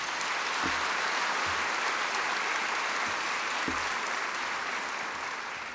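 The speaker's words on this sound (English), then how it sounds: "So give everybody a round of applause, please." Audience at a school back-to-school convocation applauding, a steady, dense wash of clapping from a large crowd sustained throughout and slowly easing at the end.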